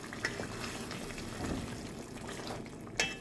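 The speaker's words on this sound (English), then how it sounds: "pour some more of the same temperature water to it" Water being poured into a pot of Jamaican curry chicken on the stove, a faint bubbling, trickling wash with a couple of soft splashes and no voices.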